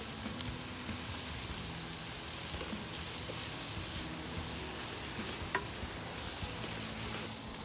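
Ginger, garlic and onion frying in a pan for a Kerala-style shrimp masala curry, a steady close sizzle with faint stirring scrapes throughout and no voices.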